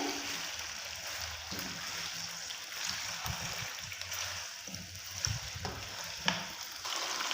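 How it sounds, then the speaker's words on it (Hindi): Chicken pieces frying in a pan for chicken pulao give a steady, moderately loud sizzle throughout, with a few soft knocks and stirring scrapes and no talk. "चिकन को हम अच्छे से फ्राई कर लेंगे।"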